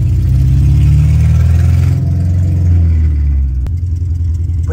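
A loud car engine revs hard nearby in a parking lot, a deep roar that rises and falls in pitch before easing off toward a steadier, slightly quieter drone.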